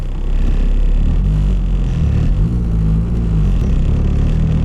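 Nissan Cefiro with a swapped K24 engine revving, a loud, close low rumble that rises and falls through a couple of throttle blips with a steady deep drone underneath and no talk.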